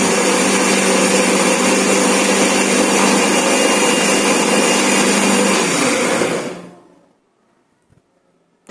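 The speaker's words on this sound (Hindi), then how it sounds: "और अब इसको 30 सेकेंड से लेकर के 1 मिनट तक अच्छे से ग्राइंड करेंगे ताकि हमारे ये अच्छी तरीके से पिस जाए।" A mixer grinder runs loud and steady, blending amla and strawberry with water into a fine paste, its high whirring motor holding for about six seconds before cutting off and winding down into near silence.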